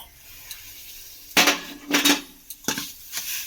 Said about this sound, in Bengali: টক দইটা এবারে এর সঙ্গে মিশিয়ে দেব